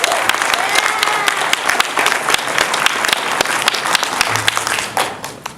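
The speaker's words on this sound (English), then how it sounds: "please give yourselves a well-deserved round of applause" The graduating class of 2018 applauds themselves, dense loud clapping from a big crowd with sharp individual claps standing out, tapering slightly near the end, with faint voices mixed in.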